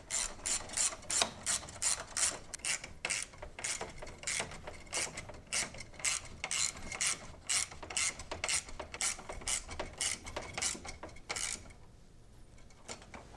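A ratchet tool tightening fasteners in a shop gives a fast, steady run of close, loud clicking, a couple of dozen rapid strokes, then it stops briefly near the end.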